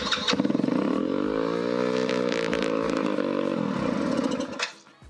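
A moped engine runs at an overly high idle, a steady, loud, close buzzing drone that holds evenly for several seconds before dropping away at the end.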